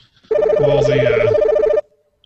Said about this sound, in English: I'll answer this phone